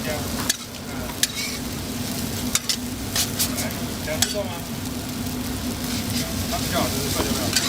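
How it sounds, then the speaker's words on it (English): At a Taiwanese street stall, metal spatulas scrape and clang against a wok in quick irregular strokes over a steady loud sizzle of frying ingredients, with faint crowd chatter in the background. "the rhythmic scrape of the spatulas, the sizzle of the ingredients"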